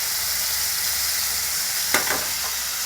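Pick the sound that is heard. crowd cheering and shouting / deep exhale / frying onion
frying onion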